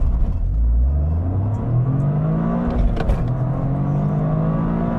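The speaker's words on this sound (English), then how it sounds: "with that all-wheel drive system, it makes it super easy to launch this car" A turbocharged all-wheel-drive 2023 Toyota GR Corolla Circuit Edition launches hard in sport mode with traction control off, slightly uphill. The engine roar climbs steadily in pitch, briefly dips at a gear change, then climbs again, loud and close throughout.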